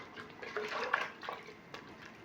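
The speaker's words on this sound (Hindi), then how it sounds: "सारी चीज़ें डालने के बाद 2 गिलास पानी इसमें डालेंगे।" Water is poured into a pot of mutton and potatoes for aloo gosht, a soft splashing pour up close with a few light drips and clinks, with no voices.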